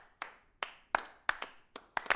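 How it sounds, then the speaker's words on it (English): A congregation gives weak applause: a handful of sparse, separate claps spaced irregularly, fairly faint and quickly fading into silence. "Rather weak applause."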